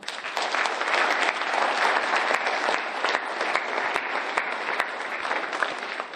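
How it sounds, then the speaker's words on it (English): Audience at a Forrest City High School coding celebration breaking into steady, dense applause that holds strong for several seconds, with no talk over it. "That deserves a round of applause."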